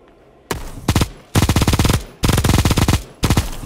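Video game Bullet Echo gunfire: several loud, rapid automatic bursts, each rattling for about half a second, separated by brief pauses, close and dry with no talk over them.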